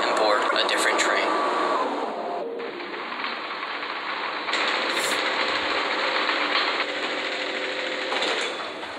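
A tram rolls along its track in a video game, a continuous rumble with rattling and shifting mechanical hum, broken by brief whistles and chirps, while an announcement voice talks over it.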